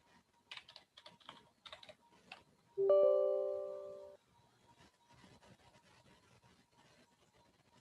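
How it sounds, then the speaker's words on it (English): Keystrokes on a computer keyboard as a username is entered, a light irregular patter of close clicks interrupted by a loud sustained tone lasting about a second, then more soft scattered tapping. "So here I'm typing my username as Scott."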